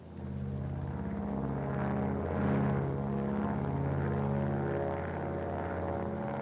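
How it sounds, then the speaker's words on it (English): A propeller airplane climbing under radio control at about 6,000 feet gives off a steady, loud engine drone that swells slightly midway and holds without a break. "Look at that plane climb."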